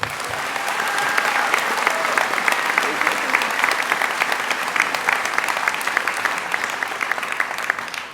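A large audience at a medical school White Coat ceremony applauds in a sustained, even round of clapping, loud and continuous from start to finish with no talk over it.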